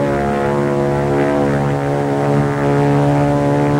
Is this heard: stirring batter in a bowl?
no